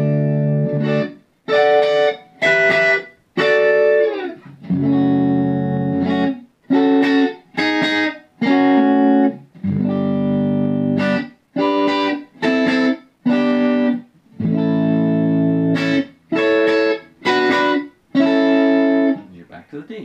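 A distorted electric guitar plays a chunky R&B riff in D alone, loud strummed chords and bursts with brief pauses between phrases, heavy with effects.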